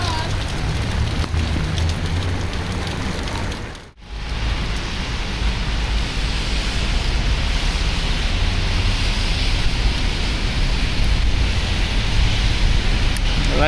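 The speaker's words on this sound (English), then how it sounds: "Raining again." Steady rain pouring down outdoors in Moscow, a dense continuous hiss of falling water with a brief dip partway through and no talking.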